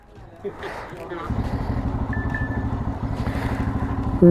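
A motorcycle engine rumbles steadily and close by after a brief quieter start, its low, even drone continuing as the bike rides along.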